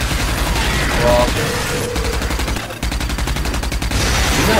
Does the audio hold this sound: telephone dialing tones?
no